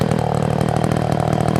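A chainsaw runs steadily at a loud, even pitch, with a rough, buzzing two-stroke drone that holds without pause.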